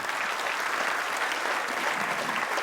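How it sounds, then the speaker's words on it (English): A crowd applauds steadily at a Georgia governor campaign kickoff rally. The clapping is dense and even, with no talk over it. "let me just give them a round of applause too for being here today"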